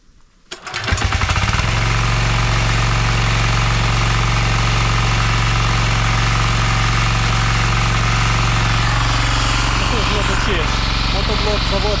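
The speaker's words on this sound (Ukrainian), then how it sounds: "Мотоблок заводиться шикарно. Це Центавр." A Centaur diesel walk-behind tractor, left standing since spring, cranks and catches within a second, then runs at a loud, steady, close-up chugging idle with a knocking rattle, a voice briefly audible over it near the end.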